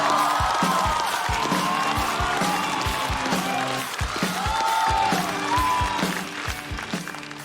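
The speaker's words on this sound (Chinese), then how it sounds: "掌声有请" A studio audience applauds and cheers as a comedian, Zhu Daqiang, is welcomed onto a stand-up comedy stage, with steady clapping and crowd noise over loud rhythmic music beats throughout.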